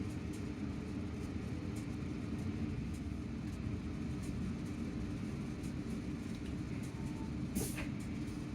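A South Western Railway train travels between Waterloo and Weybridge via Hounslow, giving a steady low rumble and faint rolling noise heard from onboard, with a brief brighter squeal near the end.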